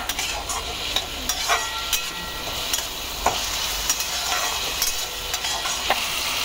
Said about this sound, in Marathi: त्याच्यामध्ये आपल्याला टोमॅटो घालून टाकायचे आणि या ज्या मिरच्या होत्या त्या मिरच्याही घालते आणि याही आता परतून घ्यायच्या आहेत आपल्याला छानपैकी